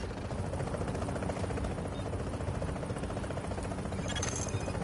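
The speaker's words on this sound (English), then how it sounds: "Chopper is inbound." A helicopter arriving in The Division video game produces a steady rotor drone that holds at constant loudness for a few seconds, with no talk.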